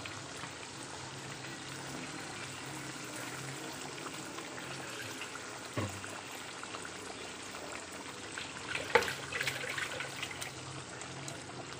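Steady running water pours and trickles into a cooking pot of chicken curry, a continuous liquid wash with a couple of brief clinks partway through.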